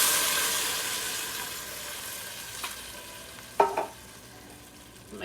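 Vegetables sizzling in a hot soup pot, a hissing fry that fades from loud to moderate, punctuated by a few sharp clinks and scrapes of stirring.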